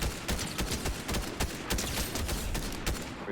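Fortnite gunfire rattles in rapid, repeated volleys, loud and sustained for a few seconds with no one talking.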